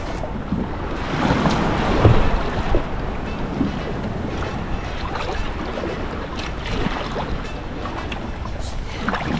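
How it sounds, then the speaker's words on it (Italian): Kayak being paddled out at sea, with wash and lapping water, soft swishing strokes and wind noise close by, no talk. "Poche pagaiate."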